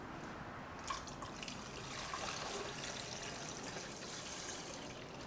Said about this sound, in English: Let's throw some water in.